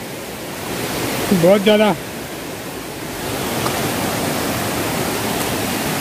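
Koshmal waterfall in the Dang forest of Gujarat gives a steady, broad rushing roar throughout, with someone briefly speaking over it near the start.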